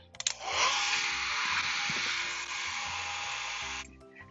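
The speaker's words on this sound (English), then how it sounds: "I'm going to use the old trusty hair dryer and give this a shot." A hair dryer drying a watercolor painting switches on with a click and blows steadily in a loud, breathy whoosh for several seconds before clicking off.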